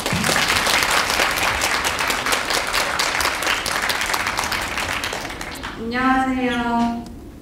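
A large audience claps continuously and loudly to welcome a student speaker onto a stage, the applause gradually thinning; near the end a voice speaks briefly over the fading clapping.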